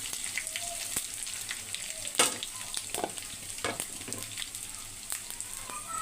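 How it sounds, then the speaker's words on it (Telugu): Garlic, dried chillies, chana dal and cumin sizzle gently in oil over a low flame, a soft continuous crackle broken by a few stirring scrapes and taps. "ఇవన్నీ కూడా బాగా గోల్డ్ కలర్ వచ్చేంత వరకు బాగా లో ఫ్లేమ్లోనే ఫ్రై చేసుకుందామండి."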